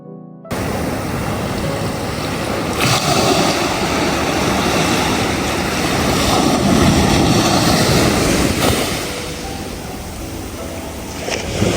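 Loud, continuous roar of waves crashing on rocks, surging and swelling for several seconds before easing off, with no voices.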